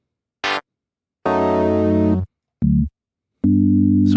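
Distorted waveform notes from the Surge software synthesizer play as four separate bursts, one short blip, a longer buzzing tone, another short note and a final sustained harmonic-rich tone, each cutting off into silence.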